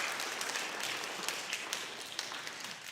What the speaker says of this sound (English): give these kindergartners a great big round of applause